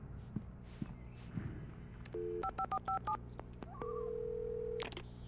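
A telephone is dialed in the Alan Wake video game: a quick run of touch-tone beeps followed by a long steady tone, faint footsteps before it, and no talk.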